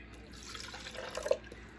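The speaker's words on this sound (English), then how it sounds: "I'm going to pour my tea in" Chai tea being poured into a blender, a soft splashing trickle with a few drips, faint and close, lasting under two seconds.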